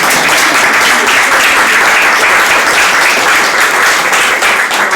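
Audience applause at a forum event, loud and continuous clapping from a crowd close by, sustained for the whole stretch without a pause.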